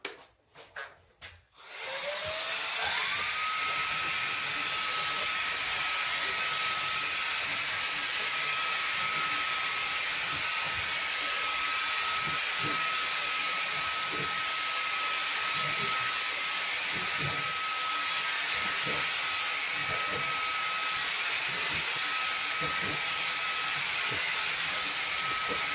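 A Wagner FinishControl 4000 18V FineSpray cordless paint sprayer starts up after a few brief clunks and then runs with a loud, steady hissing whine while spraying a door, close and continuous.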